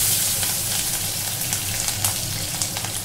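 Chopped green chilli and ginger frying in hot oil with cumin, a steady close sizzle with crackling pops running throughout, no voices.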